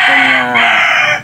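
A Darag native chicken crows on an organic farm, one loud, close, drawn-out cock-a-doodle-doo that fills the moment alone with no talk over it.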